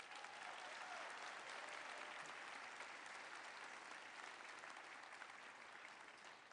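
Sustained, even applause from a graduation audience fills the whole stretch, dense and steady with no breaks, fading only slightly toward the end.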